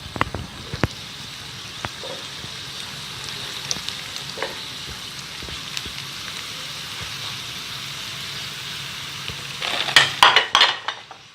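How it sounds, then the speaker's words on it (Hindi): Chicken manchurian rolls fry in hot oil with a steady soft sizzle, while utensils clink and scrape against the pan, growing louder and busier near the end. "चलिए मैं अब आपको ये फ्राई करके दिखाती हूँ।"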